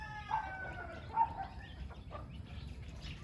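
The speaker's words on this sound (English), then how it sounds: "Chicken enclosure now, which is keeping the chickens safer" Chickens in a backyard enclosure give a couple of soft, mid-distance clucks and calls over low background noise.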